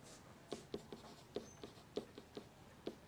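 Pen or marker strokes tapping and scratching across a board or page while a math solution is written out, about a dozen short crisp marks in an uneven rhythm, close and fairly quiet with no voice.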